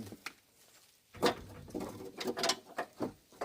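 Sharp plastic clicks and rattles from the lock clip being pushed into a 2008 Dodge Ram headlight plug, a few close, quick snaps, each louder than the quiet handling noise around them.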